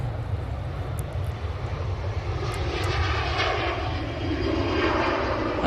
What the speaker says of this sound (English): That's the Jet2 to Girona